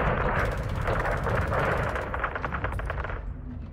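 Sustained video game gunfire in Modern Warfare 2, rapid automatic bursts rattling loudly and continuously with a low rumbling backdrop, easing slightly near the end.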